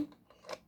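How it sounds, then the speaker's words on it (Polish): A quick snip of scissors cutting through plastic film, one short crisp cut with a faint rustle, close and fairly quiet. "teraz musimy przeciąć folię"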